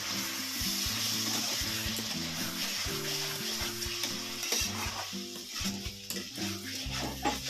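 Mutton head curry being stirred in a pot, a quiet sizzle under repeated scraping strokes of a spoon against the metal, close and continuous, with no talking.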